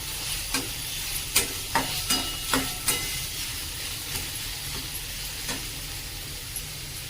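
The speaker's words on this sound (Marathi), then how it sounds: "बारीक चिरलेला कांदा कांदा चांगला परतून घ्यायचा" Finely chopped onion frying in a pan, a steady soft sizzle with a series of light clicking scrapes as it is stirred, fairly quiet and with no talk.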